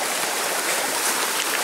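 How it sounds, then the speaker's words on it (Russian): A mountain river flowing close by, a dense continuous rushing of water with no breaks. "Вот река."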